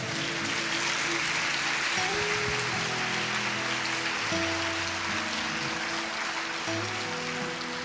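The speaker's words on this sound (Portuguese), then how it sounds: "Vamos aplaudir o Senhor?" A church congregation applauds in a steady, wash-like patter of clapping, moderately loud, with sustained instrumental tones playing underneath.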